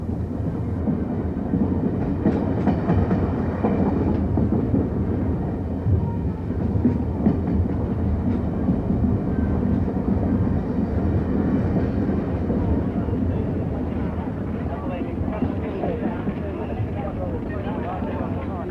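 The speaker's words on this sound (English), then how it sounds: "3801 was steaming into history in grand style" Steam locomotive 3801 rumbles through the Perth suburbs, a long steady roar of engine and rolling wheels with faint clickety-clack, with a voice talking over it.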